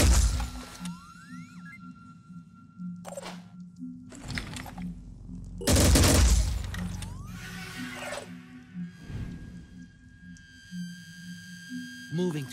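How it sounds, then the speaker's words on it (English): Weapon fire in the turn-based tactics game Phoenix Point arrives as several loud, abrupt bursts separated by gaps, set against steady electronic tones, rising chirps and mechanical clicks. "Lining up a shot."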